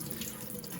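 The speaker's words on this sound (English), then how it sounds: "I'm going to rinse this with distilled water or boiled cooled water." Cranberries are rinsed with distilled water: a steady, close wash of running and splashing water fills the short moment, with no voices.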